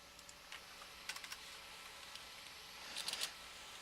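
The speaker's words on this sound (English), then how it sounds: "let's do it right, type it right here" Light, scattered keystrokes on a computer keyboard come in small bursts near the start and again toward the end, soft and close, with no talk over them.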